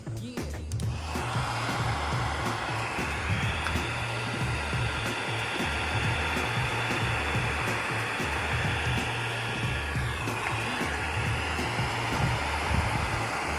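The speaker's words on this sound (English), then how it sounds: "So let's get the heat gun." A heat gun warming LifeProof vinyl flooring for a stair tread blows a steady, close, loud whooshing hiss that holds for over ten seconds with only slight shifts in tone.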